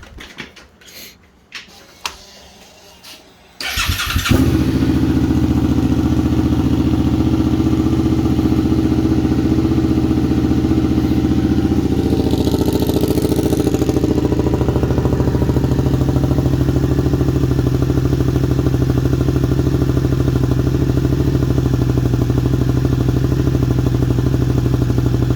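A Suzuki SV650 motorcycle with a cheap aftermarket exhaust cranks briefly with clicking, fires up and settles into a steady, loud, close idle for the rest of the stretch.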